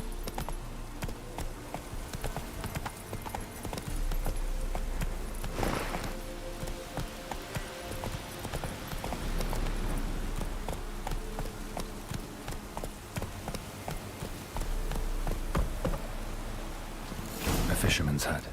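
Horse hooves gallop in The Witcher 3, a steady rapid clip-clop running throughout over a dense background of game ambience and movement.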